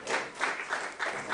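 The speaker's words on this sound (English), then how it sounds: "Let's give the Lord a hand clap of praise." A church congregation gives a brief burst of applause, a dense patter of many hands clapping together from a moderate distance, steady across the moment with no distinct voices over it.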